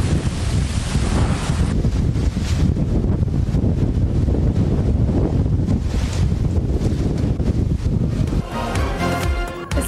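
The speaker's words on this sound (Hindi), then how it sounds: "इस्लामाबाद और रावलपिंडी में तूफान के साथ बारिश और जालाबारी। तेज हवाओं से दरख्त जड़ों से उखड़ गए।" Violent storm of strong wind and rain in Islamabad, a loud, continuous roar of gusting wind buffeting the microphone, with a rushing broadband wash throughout and no voices.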